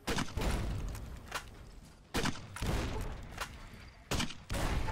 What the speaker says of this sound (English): we're going to be using the normal 40mm grenades on all the Deathclaws here